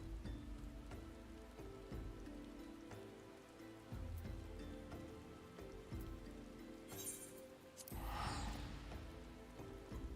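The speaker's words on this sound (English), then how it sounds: "Oh wow, it's raining." Rain in a Final Fantasy video game, a soft, steady patter on surfaces that stays quiet throughout, with a few brighter splashy bursts near the end.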